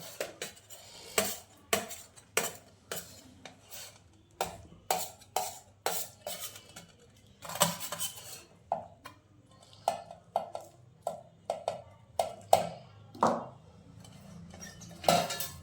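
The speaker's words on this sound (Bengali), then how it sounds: "এবার একটা থালার উপর রেখে এরম ছুরি নিতে হবে, নিয়ে ঠিক এরমভাবে চারদিক সমান করে নিতে হবে" A knife clinks and taps against a plate again and again while fish fry patties are pressed and shaped, giving a steady run of sharp close metallic ticks with no talking.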